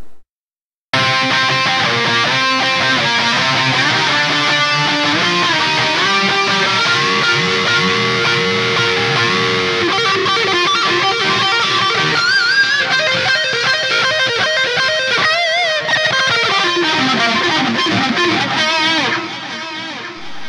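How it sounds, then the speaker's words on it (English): Distorted electric guitar solo played through delay and a Waves chorus plugin, sustained wavering lead notes and bends with echoing repeats, loud and continuous for about eighteen seconds after a short silent start, then fading slightly at the end. "And now I'm going to show you the delay with this chorus from waves."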